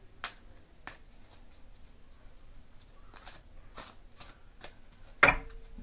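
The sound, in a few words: shuffling tarot cards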